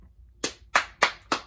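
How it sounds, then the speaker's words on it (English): Four sharp, close hand claps in a quick, slightly uneven rhythm during an online children's story time, each crisp and distinct against near silence. "I'll clap for you for being good listeners."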